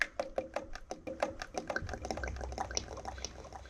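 Engine oil pours into the dipstick port of a mini-tractor engine, a close liquid gurgle with quick rhythmic glugs from the container, then a steadier trickling flow.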